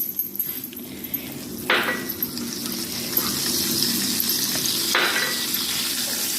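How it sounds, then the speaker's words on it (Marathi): Asafoetida and Kashmiri red chili powder sizzle in hot oil for a traditional raw mango pickle, a steady close frying hiss that swells after a couple of sharp additions, with faint clinks of a utensil and no talking. "तेलात काश्मीरी लाल चटणी घालणार आहे"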